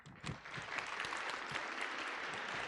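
A round of applause at the Pennsylvania FTC robotics championship: dense, continuous clapping from a large crowd, steady and fairly loud throughout the clip after a short rise at the start.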